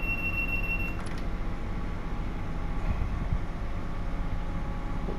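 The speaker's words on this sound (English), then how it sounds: "Freight train going into Acton Yard" A Class 166 train runs along the track in Train Sim World 2 as a freight train nears Acton Yard, giving a steady loud rumble of wheels on rail, with a brief high squeal near the start and no voices.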